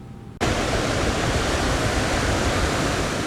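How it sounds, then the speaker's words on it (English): Ocean waves along the San Diego coast suddenly swell into a broad, steady wash of surf that stays loud and even, with no voices. "The sounds of the ocean"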